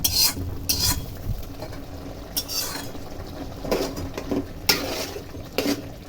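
Spoon stirring a fried spice tempering into leftover-rice latka khichuri in a pan, with repeated scraping and clinking strokes over a soft sizzle; the strokes come in bursts, close and moderately loud, with no talking.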